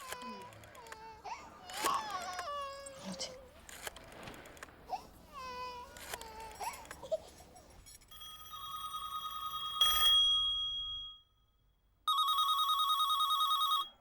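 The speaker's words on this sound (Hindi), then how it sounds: "एमपी के घर बेल जा रही है, लेकिन कोई फोन ही नहीं उठा रहा।" A landline telephone rings unanswered at an MP's house, its repeated electronic trill sounding in bursts after tense dialogue and crying voices earlier in the scene.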